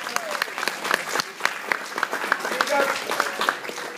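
An audience at a karate kata presentation in Cwmavon applauds, with sharp handclaps from a smallish crowd over a few seconds while voices talk underneath.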